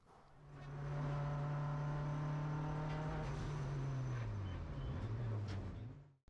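A Mazda MX-5 is driven at speed through corners 7 and 8 of a race track, its engine holding a loud steady drone that dips and shifts pitch through the turns before lifting off at the end.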